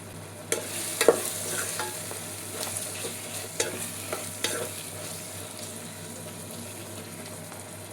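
Tomatoes sautéing in a pan for a rice-cooker chicken biryani, a soft steady sizzle broken by several sharp scrapes and taps of a spoon stirring, fairly quiet and close, with no talk.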